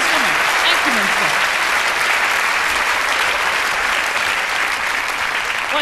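A comedy show audience keeps up dense, sustained applause that fills the room from start to finish, with a voice briefly heard under the clapping.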